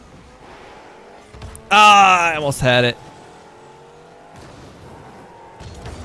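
Car engine and tire noise in Rocket League: a loud, revving burst of under about two seconds in the middle of the clip over quieter game ambience, with someone speaking briefly.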